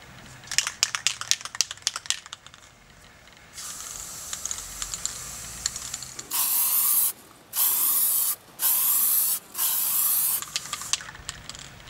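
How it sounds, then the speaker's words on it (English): PlastiKote Twist and Spray primer sprayed from an aerosol can onto an old wicker hamper: four steady bursts of loud hiss, each about a second long, separated by short pauses, following some earlier light tapping and clicking. "I'm going to use PlastiKote Twist and Spray primer."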